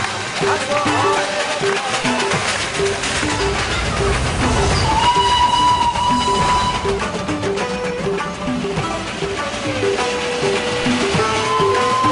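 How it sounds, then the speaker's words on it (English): Rumbling, clanking Darjeeling Himalayan Railway steam train with hissing steam and a drawn-out whistle tone, loud and close, with some music and voices mixed in. "the romance and the excitement of a real steam train"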